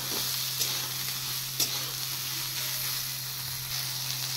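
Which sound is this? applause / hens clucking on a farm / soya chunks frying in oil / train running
soya chunks frying in oil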